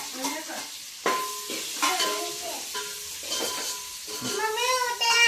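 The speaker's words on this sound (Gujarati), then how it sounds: "ખીચડી વઘારે છે" Khichdi being tempered and stirred in a pan in a home kitchen, a continuous sizzle under a cat's repeated meowing that dominates the foreground.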